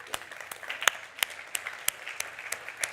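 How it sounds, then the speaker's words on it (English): A small chapel audience claps in scattered, uneven bursts, with sharp individual hand claps standing out over a light, sparse round of applause. "So I want to give you a hand of applause."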